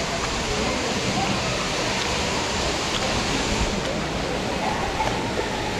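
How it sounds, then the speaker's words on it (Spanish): Waterfall of the Arroyo de las Calaveras in Tafí del Valle, a steady, dense roar of falling water that stays loud and even throughout, with no break. "Ahí está la cascada."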